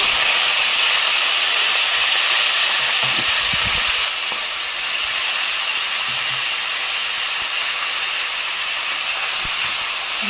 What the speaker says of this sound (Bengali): হালকা করে ভাজবো চিংড়ি মাছটা।